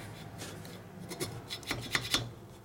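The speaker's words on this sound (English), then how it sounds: "you go back with this and you knock off what you can of the gasket, the excess" Old gasket material is scraped off a Harley shovelhead cylinder head, giving short rasping strokes that come faster and louder toward the end, close up and with no talking.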